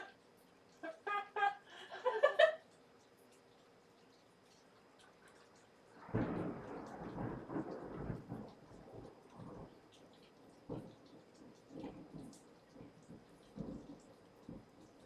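Thunderstorm with thunder and rain: a sharp crackling strike early on, then a long deep rumble that rolls and fades into scattered raindrop patter, fairly faint and distant-sounding, no talking over it.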